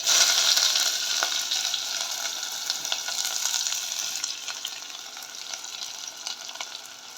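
Onions and curry leaves frying in hot oil for a banana-flower fish curry, a steady close sizzle with scattered crackles that eases slightly over time, heard alone without talk.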